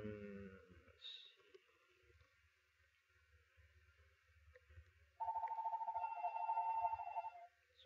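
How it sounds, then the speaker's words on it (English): A home telephone rings somewhere in the house behind quiet computer-game sounds, a single sustained warbling burst lasting a couple of seconds, moderately loud against the otherwise faint background. "Sorry about that ringing. It's the home phone."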